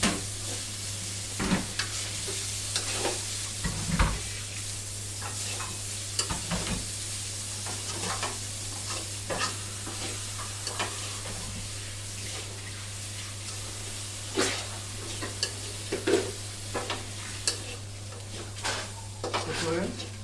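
Stirring chicken frying in a small amount of oil in a pan for toast, a steady sizzle with repeated scrapes and clinks of the spoon against the pan, plus a constant low hum underneath.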